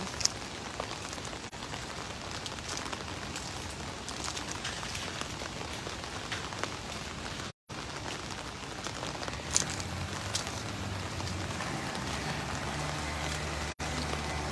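Rain falls steadily at a house construction site in Rayong, Thailand, a constant hissing patter with a few faint knocks and brief dropouts, moderately quiet throughout.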